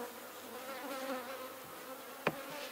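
Bees swarm around an opened horizontal beehive, a dense, continuous buzzing drone close by, with one brief knock partway through.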